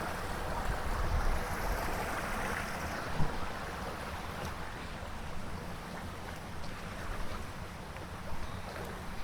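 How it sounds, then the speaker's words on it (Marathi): A river flows steadily outdoors in sunshine, a continuous broadband rush of moving water with some wind buffeting the microphone, no voices. "नदी आहे"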